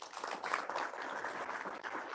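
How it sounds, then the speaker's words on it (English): Applause at a retail innovation awards ceremony, a fairly quiet but continuous wash of clapping from the audience that holds steady for a couple of seconds. "Ladies and gentlemen, a round of applause,"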